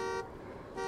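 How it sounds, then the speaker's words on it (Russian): Car trap horn in the video game Dying Light 2, two loud steady honks close by separated by a brief gap. "Я думал, просто сигналит."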